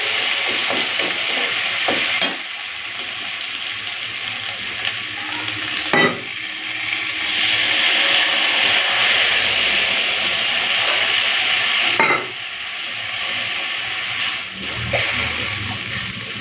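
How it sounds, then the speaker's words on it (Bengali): Green chilli and poppy seed paste hits hot oil tempered with nigella seeds, producing a continuous close sizzle that rises and falls, with a few sharp spoon clinks and brief surges of spattering. "এখন দিয়ে দেবো কাঁচা লঙ্কা পোস্ত বাটা একটুখানি ভেজে নিই"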